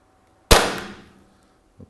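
A single sharp shot from a shooting simulator gun during screen calibration, a loud close crack that decays over about half a second, followed by a faint small knock.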